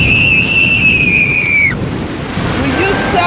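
Sea waves wash onto the beach at Brighton in a steady, loud broadband roar, with a child's high cry rising over the surf in the first half.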